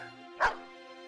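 A single short bark from a war dog in the video game Battle Brothers, one brief yelp rising over a quiet, steady background hum of game music.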